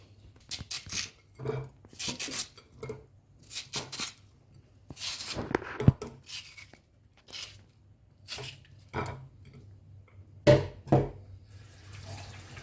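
Tap water runs in bursts into a kitchen sink while raw liver is washed for a Jamaican liver-and-onion breakfast, with repeated splashing pulses that start and stop over several seconds, close and fairly loud, with no talk.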